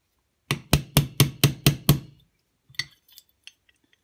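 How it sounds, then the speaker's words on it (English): Seven quick, evenly spaced hammer taps drive a pin into a Sig Sauer P365 slide during extractor installation, crisp and close, followed by a few lighter clinks of metal. "So I'm gonna basically hammer that in."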